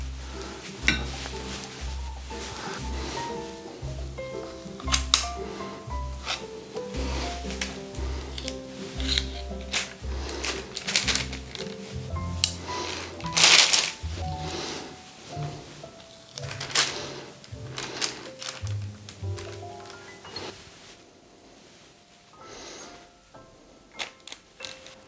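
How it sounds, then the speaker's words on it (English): Spoons scooping and scraping sticky chocolate chip cookie dough onto baking paper, a run of soft repeated thuds, scrapes and clinks of metal at close range, with no talking. "you can scoop some cookie dough and because it's sticky, you can scrape it off"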